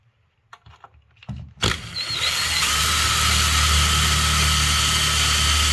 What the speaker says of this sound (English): I'll drill one here.